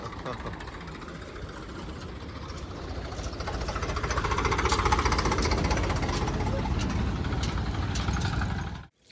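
A heavy engine chugs and rattles steadily throughout, loud and close, with a rhythmic knocking beat, then cuts off abruptly at the end.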